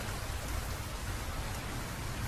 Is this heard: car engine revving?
no